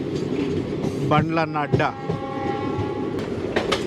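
Tungabhadra Express pulls from the outer signal into Shadnagar station, its horn sounding in a loud burst of stacked tones, then a long steady blast over rail rumble, with someone speaking briefly.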